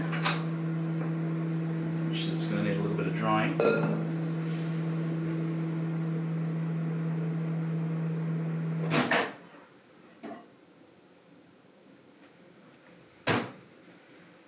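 A microwave oven runs with a steady loud hum for about nine seconds, then shuts off with a beep or door click, followed by quiet room noise, a few faint knocks and a brief spoken phrase.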